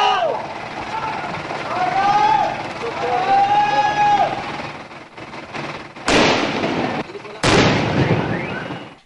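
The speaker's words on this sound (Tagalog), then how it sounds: "Agad itong pinasabog sa bakanting lote." Police detonate a bomb in a vacant lot, with two loud, sharp blasts heard after a stretch of narration by a voice.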